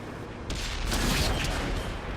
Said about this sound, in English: that's an HE shell penetration through the back of the tortoise